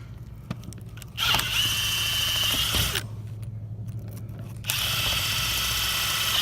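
A power drill whirs in two bursts, close by, drilling hinge screw holes in a Marvin Integrity window, with mechanical grinding between runs and a low steady hum underneath.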